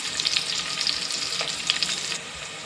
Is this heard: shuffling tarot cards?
no